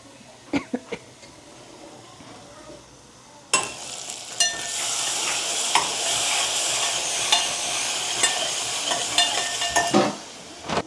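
Toor dal sambar goes back onto a gas stove. A few clinks of utensils sound first, then a sudden loud, steady sizzle of cooking. Stirring knocks and scrapes recur over it before the sizzle cuts off near the end.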